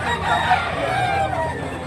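A rooster crows once, a loud, drawn-out call heard up close that fills nearly the whole moment.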